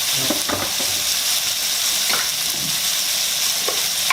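Crab meat with bird's eye chilies stir-fried over high heat: a loud, constant sizzle with several stirring scrapes and knocks of the utensil against the pan, close up and without talk.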